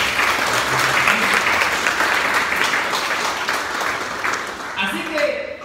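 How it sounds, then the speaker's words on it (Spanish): A church congregation claps together in a dense, steady wave of applause that fills the room and fades slightly near the end, with a voice briefly audible under it. "Denle un aplauso al fundador de la iglesia."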